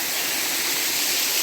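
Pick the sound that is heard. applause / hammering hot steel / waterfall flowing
waterfall flowing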